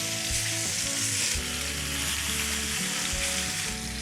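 Lamb shanks searing in a pot for braising make a loud, continuous sizzle and crackle. It holds steady throughout with no speech.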